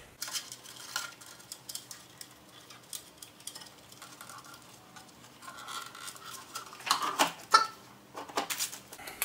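Small screws being handled during a Bluetooth stereo install on an EZGO RXV golf cart, heard as faint scattered metallic clicks and light rattles, close by, growing a little busier toward the end.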